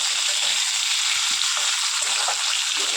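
Fried potatoes with chopped tomato being stirred in a hot pan, giving a continuous, loud, close hiss of sizzling oil with soft stirring movement and no talking.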